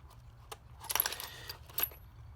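Small metal locks and keys being sorted and dropped among loose auto parts from an old Ford tote, a few sharp metallic clinks and a brief jangle, close and moderately loud with no talking.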